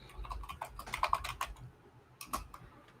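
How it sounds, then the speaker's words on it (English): Someone types on a computer keyboard: quick bursts of close, light key clicks in an irregular rhythm, with a short pause before a final cluster of taps. "somebody's typing"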